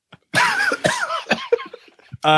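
Harsh coughing and throat-clearing bursts close by, mixed with a voice, ending in a sudden loud burst.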